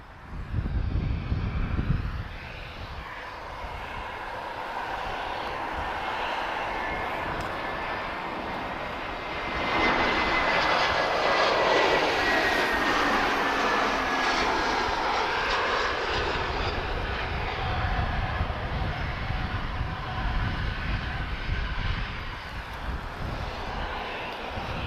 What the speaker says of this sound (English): We'll look at that on A320, she's just arriving from Vienna